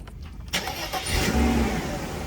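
A 1994 Mercedes-Benz E320 engine cranks briefly and catches, settling into a steady, fairly loud idle close by, with no talking.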